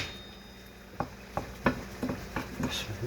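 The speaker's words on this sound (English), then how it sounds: "Just moving these onions around so they can get coated in that good olive oil" Onions get stirred and pushed around a pan in olive oil, a series of distinct scraping clacks of utensil on metal, roughly one every half second, over a faint background sizzle.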